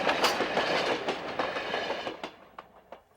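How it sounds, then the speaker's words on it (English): A Grand Canyon Railway steam train rolls past close by, loud rumbling and clickety-clack of wheels that fades and thins toward the end with a few last rail clicks. "You just have to stand and watch it pass. It shakes the ground and shakes the bones and thrills the soul and thunders by."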